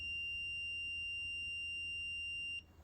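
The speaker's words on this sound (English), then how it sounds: "we'll notice the buzzer goes on for 1 second and then turns off" A Raspberry Pi buzzer sounds one steady, unchanging electronic tone at close range, holding continuously for about two and a half seconds and then cutting off abruptly into quiet.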